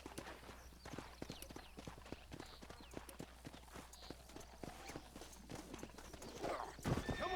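Horse in Red Dead Redemption, steady clip-clop of hooves throughout with a whinny near the end, game ambience underneath and no talk.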